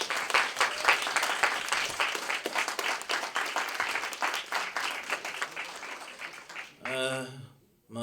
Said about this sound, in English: We always applaud the poet.